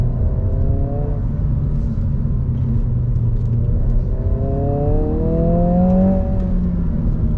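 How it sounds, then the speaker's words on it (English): A 2022 Honda Civic Si engine winds out under hard acceleration, a loud close rising whine and rumble climbing through revs, easing briefly, then pulling up again. "The way you just wind the engine out, it keeps pulling because of where that torque delivery is."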